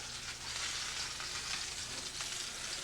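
Hot cherry peppers and sausage sizzle steadily in a hot pan, a dense continuous frying hiss held close and fairly loud throughout, with no talking.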